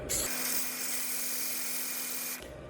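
Coarse 50 grit sandpaper pressed against the foot of an oak bowl spinning on a lathe at about 320 RPM, giving a steady loud abrasive hiss with a low hum beneath that runs for about two seconds and then stops.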